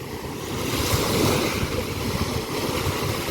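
Steady rushing surf of ocean waves washing on a shore at Xylofagou beach, a continuous broad hiss swelling and easing, with a little wind.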